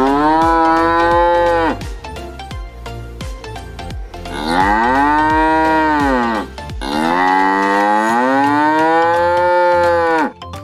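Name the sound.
cow mooing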